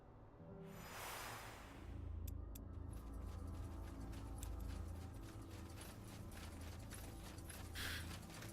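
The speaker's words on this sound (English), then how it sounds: "Insert stone into the socket." A stone set into a socket mechanism in SpellForce 3 sets off a rumbling grind with rapid ratcheting clicks and clanks running continuously, fairly faint and steady.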